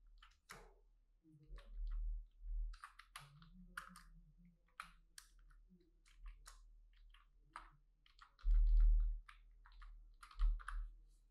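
Typing on a computer keyboard in a quiet room, a steady run of soft, close key taps in short bursts with a few heavier thumps.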